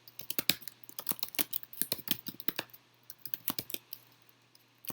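Fingers type on a computer keyboard, a quick run of close, crisp key clicks with brief pauses between bursts, fading out toward the end with no talk.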